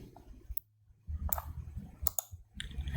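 A computer mouse or keyboard clicks several times in quick, close bursts while code for an ATmega16 microcontroller is copied and pasted, with quiet gaps between the clicks.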